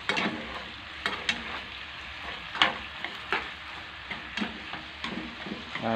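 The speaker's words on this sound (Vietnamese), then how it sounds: "Mình sẽ chế thêm một ít cái nước sôi vào." Boiling water splashes onto seared braised pork, setting off a steady, close frying sizzle with frequent sharp crackles and pops throughout.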